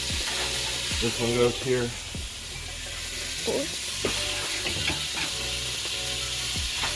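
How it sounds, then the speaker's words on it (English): Ribeye steaks sizzle on a grill at the highest possible heat, a loud, steady crackling hiss that runs throughout, with a few clanks and a voice briefly speaking over it. "Grilling, highest heat possible."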